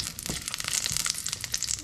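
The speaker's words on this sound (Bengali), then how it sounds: "রসুনটাকে একটু ভেজে নেব।" Garlic frying in mustard oil, a close, dense crackling sizzle with sharp crisp pops throughout, steady and fairly loud with no talking.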